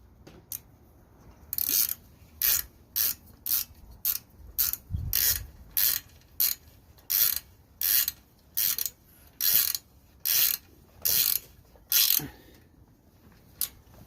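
A hand ratchet tightens the carburetor bolts on a Briggs V-twin engine, making close, crisp bursts of rapid clicking in a steady back-and-forth rhythm, about fifteen strokes with short pauses between them.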